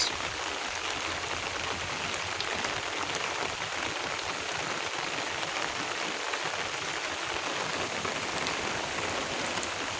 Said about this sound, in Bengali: বৃষ্টি কোনো থামার কোনো নামগন্ধই নাই